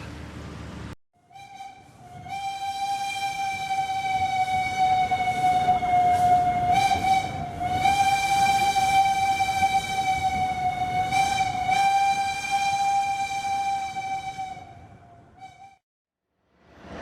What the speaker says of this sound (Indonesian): Udah lama banget ya saya nggak naik kereta Gajayana Tambahan